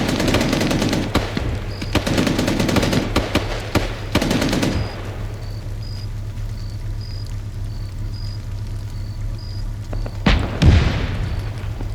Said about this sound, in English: That was the main gun that just fired.